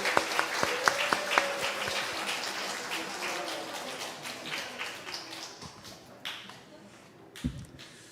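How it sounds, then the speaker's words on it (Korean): A church congregation at a Sunday afternoon gospel service claps: a few sharp early claps lead into a dense wash of applause that slowly thins and fades, with some voices underneath. "박수"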